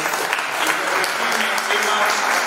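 A crowd at a Santa Fe culture awards ceremony applauds an honoree with continuous, loud, dense clapping that fills the whole moment without pause.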